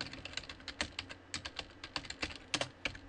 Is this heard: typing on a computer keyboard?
yes